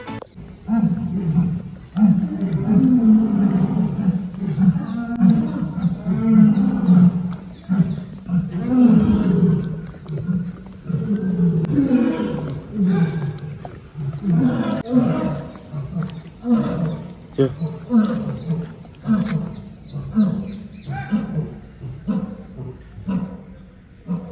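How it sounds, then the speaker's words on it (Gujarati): An Asiatic lion at Pradhyuman Park zoo in Rajkot gives repeated deep, rumbling roars and grunts in a long series, loud and moderately close, with a person talking at times between the calls. "ओली साइड बैठो है एशियाई सिंह है जो रियो"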